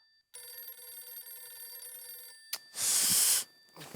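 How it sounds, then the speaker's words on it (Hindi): A mobile phone rings with a steady electronic tone lasting about two seconds, followed by a loud burst of noise and rustling. "अरे तो मेरे ही फोन में बज रहा है।"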